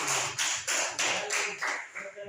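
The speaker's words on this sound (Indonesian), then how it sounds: "tepuk tangan untuk kita semuanya" An audience claps hands in several loud, regular bursts, about seven sharp strikes in quick rhythm.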